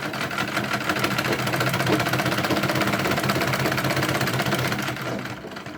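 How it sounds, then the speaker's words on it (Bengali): A sewing machine stitching cloth for a baby nappy, a continuous fast mechanical whirr and rapid needle chatter, close and steady throughout before easing slightly at the very end. "তো আমি চারপাশটা ঘুরিয়ে কিন্তু চাপ সেলাই দিয়ে নিয়েছি"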